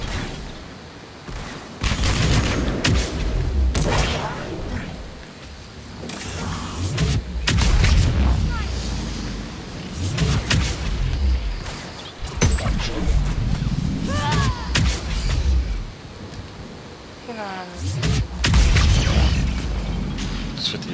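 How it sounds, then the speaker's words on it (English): Biotic explosions in Mass Effect 3 multiplayer go off as repeated heavy booms and blasts mixed with gunfire, loud and irregular across a busy battle soundscape. "those biotic explosions where you prime it and I detonate it"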